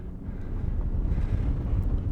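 Strong wind buffets the microphone on the north side of Trimble Pass on the Weminuche high route, a continuous low roar that stays loud and close from start to finish with no voices.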